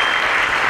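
Studio audience at a school quiz show in Nigeria giving a short burst of dense, loud applause that fills the whole moment, with no voices over it.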